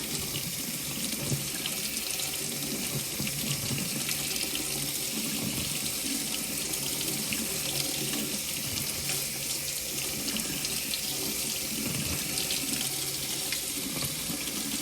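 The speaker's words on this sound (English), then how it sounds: "I do kind of get the water a little hot, run it under for like 30 seconds" Hot tap water pours steadily from a faucet over an ice cream container, a constant close splashing rush with no talking.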